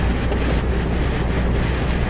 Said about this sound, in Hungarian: Egy kicsit szálinkozik a hó, meg fúj a szél.